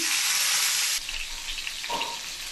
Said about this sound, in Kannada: ಇವಾಗ ಟೊಮ್ಯಾಟೊನೂ ಫ್ರೈ ಮಾಡ್ಕೊಳ್ಳೋಣ